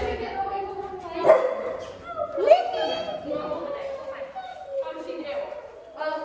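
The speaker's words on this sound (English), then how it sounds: "Did you guys see your puppy playing?" A puppy plays and gives several high yips, whines and little barks at irregular intervals, close by, with people talking over and between the sounds.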